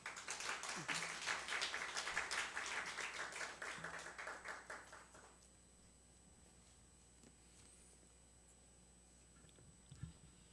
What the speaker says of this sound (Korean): 이제 우리 큰 박수로 우리 하나님께 영광을 돌리며 목사님 영접하겠습니다